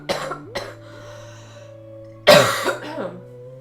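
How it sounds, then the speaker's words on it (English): A person coughs a couple of times, a few harsh bursts close to the microphone, separated by a quiet pause with a low background hum. "Please excuse my cough."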